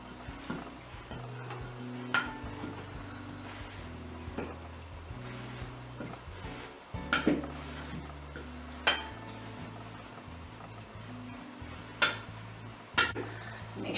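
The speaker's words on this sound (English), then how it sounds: "we're going to mix this very well" A tablespoon of baking soda is mixed in a bowl for homemade toothpaste or deodorant, with irregular clinks and scrapes of a utensil against the bowl over a low steady hum.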